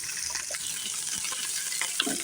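Spice tempering with turmeric frying in a pan for an aloo capsicum dish, a continuous close sizzle and crackle with occasional stirring scrapes, no voices.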